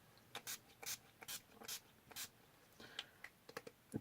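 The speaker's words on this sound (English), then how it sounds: "before I do my lips, I put NYX Matte finishing spray on" NYX matte finishing spray mists onto a face in a run of short, close hissing bursts, about ten spritzes spaced fairly evenly, quicker toward the end.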